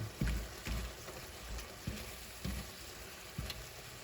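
Shrimp stir-frying in a pan with snow peas and ginger, a steady low sizzle broken by periodic scraping stirs roughly every half second to second, close and fairly quiet.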